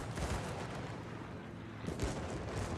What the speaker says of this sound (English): trying to avoid flak as much as I can